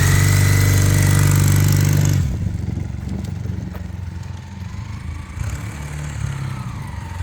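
A Honda CM400A Hondamatic motorcycle, a clutchless automatic bike in restored original condition, revs from a loud steady drone and then pulls away, the engine note dropping and shifting as it accelerates, close and alone.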